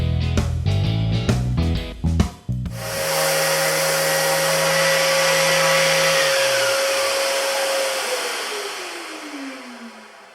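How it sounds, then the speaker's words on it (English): A handheld power sander works wooden drawer fronts for shop cabinets, a steady loud whine that runs continuously and then winds down slowly to a stop, with a few brief rattles before it starts. "just doing a little sanding here on these drawer fronts"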